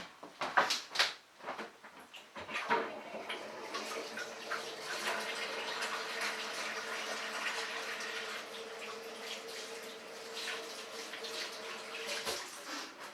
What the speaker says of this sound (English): I've got to wash my hands.